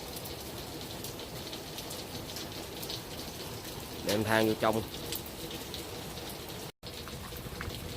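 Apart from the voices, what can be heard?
heavy rain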